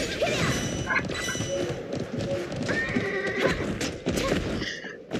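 A horse in a video game neighs and whinnies repeatedly over continuous clip-clopping hooves, loud and close and spinning in place, with game noise around it and no clear talking.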